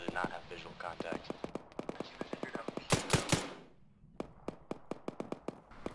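Rapid airsoft gunfire during an outdoor skirmish: sharp, close snapping shots in quick strings, with a brief louder cluster midway, a short lull, then more steady pops.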